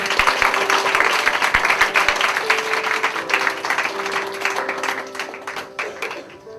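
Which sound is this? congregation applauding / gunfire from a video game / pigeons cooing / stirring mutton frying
congregation applauding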